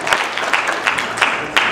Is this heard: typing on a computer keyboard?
no